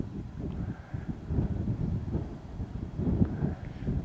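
Breezy wind gusting outdoors on a long-distance countryside walk with a view over a dam, a steady low rumble of wind buffeting the microphone and rising and falling in loudness throughout, with no talking.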